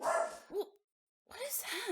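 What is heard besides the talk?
dog barking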